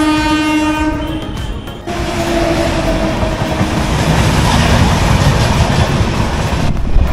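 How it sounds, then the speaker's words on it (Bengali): Chennai Coromandel Express rushing past close by, opening with a loud horn blast that cuts off, followed by a dense, steady roar of carriages passing in the rain. "এটাই কিন্তু সেই চেন্নাই করমণ্ডল।"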